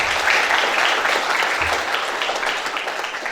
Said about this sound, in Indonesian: Tepuk tangan dulu dengan